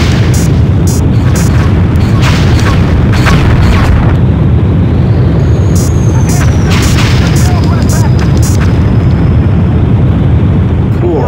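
Missile explosions in the PS1 game Independence Day sound as loud, continuous rumbling booms, with repeated bursts over a dense low roar and the whine of aircraft throughout.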